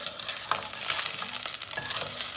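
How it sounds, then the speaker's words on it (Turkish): Hot oil sizzles and crackles in a pan as it is stirred, a close, continuous frying hiss with scraping strokes, no voices. "Önce yağı şöyle bir çevireceğiz, kavuracağız."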